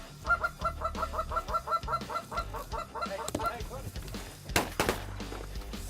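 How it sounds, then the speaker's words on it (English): A goose call blown to lure ducks on the Eastern Shore, a rapid run of honking clucks followed by a few sharper bursts, close and loud outdoors. "Called the duck in with a goose call"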